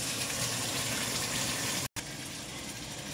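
Water running steadily from a kitchen tap while a red pepper is washed under it, a close continuous splashing rush, briefly cut off near the middle.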